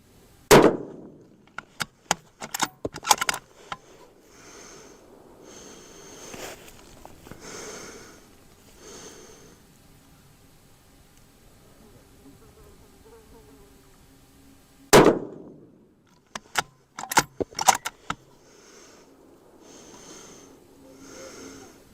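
A rifle in an MDT Oryx chassis fires two sharp, loud shots about fifteen seconds apart, each crack followed by brief clanks of the bolt being worked, with quiet gaps and faint handling noise between.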